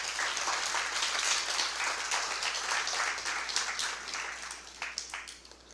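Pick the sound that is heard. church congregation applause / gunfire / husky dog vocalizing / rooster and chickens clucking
church congregation applause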